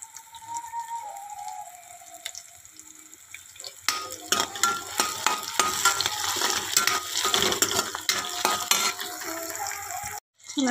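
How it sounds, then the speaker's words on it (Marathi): Onion-tomato masala paste for a black pea curry cooks in a home kitchen pan, quiet at first, then a steady sizzle with repeated stirring scrapes and light utensil knocks for most of the clip. "आपण ही जी पेस्ट केली होती ती टाकूया. तर याला थोडं शिजवूया 5 मिनिट."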